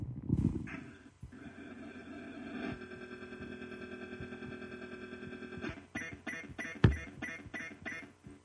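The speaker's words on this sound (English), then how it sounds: "that's the sound of a ship being hit there" A ship takes hits in a retro video game, heard as a rapid stuttering burst of harsh gunfire-like blasts. The burst holds steady over a low electronic drone and then breaks into sharp separate thuds near the end.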